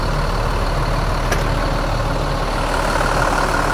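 A bus engine runs steadily on an intercity bus trip from Surabaya to Medan, giving a continuous, close, low rumble with a constant hum throughout.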